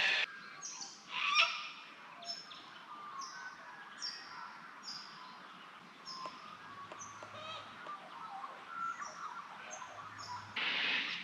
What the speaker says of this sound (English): it's morning now, and sulphur-crested cockatoos are up and about